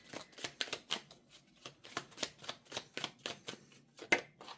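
A deck of tarot cards is shuffled by hand in quick uneven riffles, each a sharp papery burst, about a dozen close crisp flutters in a row with brief gaps between them.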